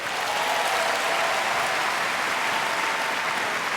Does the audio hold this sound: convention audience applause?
yes